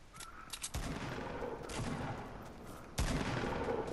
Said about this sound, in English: Yeah, I'm literally shooting at nothing now.